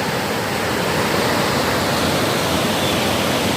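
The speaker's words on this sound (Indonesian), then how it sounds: "Tuh, itu suara aliran sungainya," Rushing river water near the Ciaruteun inscription in Bogor, Indonesia, roars steadily and broadly, a dense, continuous wash of fast-flowing current with no pauses.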